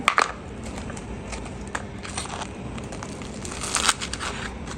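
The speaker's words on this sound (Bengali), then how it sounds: "এভাবে করে সবগুলো পাউরুটিকে কেটে নেব" A knife slices through fried bread for pocket shawarma, producing close, soft crackling and crunching with a few sharper crisp snaps.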